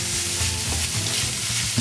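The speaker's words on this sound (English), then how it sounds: "So while our onions are browning" Onions browning in a pan give a steady, close sizzle throughout, with faint stirring scrapes and low clinks under the frying hiss.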